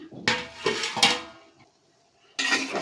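A spoon scrapes and clinks against a pot as bottle gourd is stirred into a cooked spice mixture, giving three quick clattering strokes, a brief pause, then another burst of scraping.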